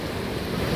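Sea surf rolls onto the beach at Puri, a continuous low roar of breaking waves mixed with wind buffeting the microphone, close and steady, with nobody speaking.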